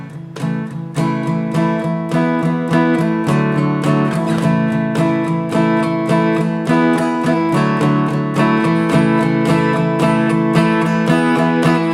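Acoustic guitar strums a song's pre-chorus chords in a straight, steady rhythm, starting softer and building in volume as it goes, close and full with no voices.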